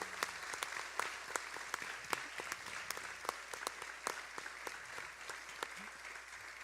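Audience applause greets the DFL gubernatorial candidates at a debate in Mankato: a dense, steady patter of clapping hands that continues throughout, with no talk heard.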